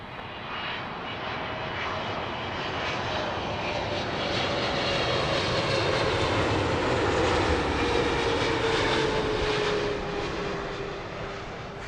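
A British Airways jet lands on runway 9 left at London Heathrow, its engine roar swelling steadily and lingering loud and near for several seconds before easing off.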